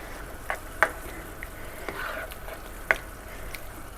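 Vegetables and tomato cooking down in butter for a shrimp and crawfish étouffée: gentle sizzling under a few brief utensil taps and scrapes against the pot, close and fairly quiet, with no talking.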